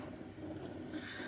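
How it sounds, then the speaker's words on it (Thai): A rice cooker runs in the background with a steady low hum and soft broadband hiss throughout, with no talking. "เสียงที่ได้ยินนี่คือเสียงหม้อหุงข้าวนะข้างหลัง"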